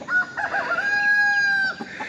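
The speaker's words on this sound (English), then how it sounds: "So we got roosters everywhere." A rooster crows once, close and clear, a long drawn-out call over faint background noise.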